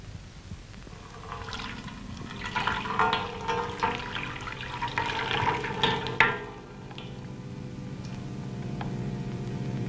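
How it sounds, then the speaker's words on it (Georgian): Water from Surami is poured into a bowl, a steady gurgling splash of several seconds that tapers off, followed by a quiet hiss. "ჩაასხი წყალი."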